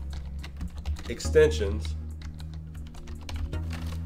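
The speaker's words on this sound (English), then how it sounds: "Next thing you wanna do is go into the search here and type Chrome" Quick, light taps on a computer keyboard, near and steady, heard beneath a voice as he talks.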